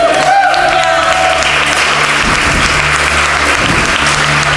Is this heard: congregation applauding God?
yes